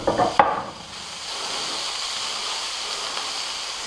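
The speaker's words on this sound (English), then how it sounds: "Yeah, listen to that sizzle." Bacon frying in a pan gives a steady, loud, hissing sizzle that settles in after a brief clatter of stirring.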